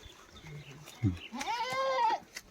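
Goats bleat on a village farm in the hills, a single near, wavering bleat rising out of quiet outdoor ambience after a brief low thump, with faint background voices.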